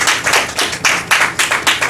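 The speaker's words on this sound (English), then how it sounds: "Let's give our sister another warm round of applause" A small group at a religious gathering claps by hand. The claps are close and sharp, with uneven bursts and short gaps over about two seconds, and no voices are heard.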